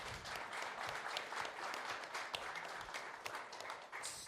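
An audience applauds a venture capital panel at a business event, with dense, steady clapping that fills the room for several seconds.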